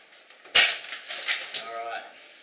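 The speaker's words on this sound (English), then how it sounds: "Fizz. A little sort of fizz." Dry ice dropped into water fizzes in a classroom demonstration, beginning with a sharp burst and settling into a soft, uneven hiss and bubbling, heard close up.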